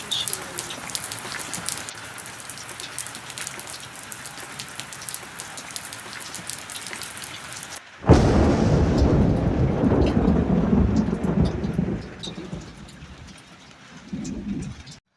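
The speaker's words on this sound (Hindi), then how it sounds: "बारिश हो गई इतनी प्यारी तूफानी।" Heavy rain from a stormy downpour, first a lighter steady patter with bird coos, then a sudden loud, dense drumming wash that fades somewhat near the end; no thunder stands out.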